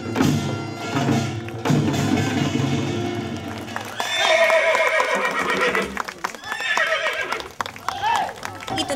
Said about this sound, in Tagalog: Pinapamalas ng mga riders ang kanilang galing sa pagsakay at paggawa ng stunt sa kabayo.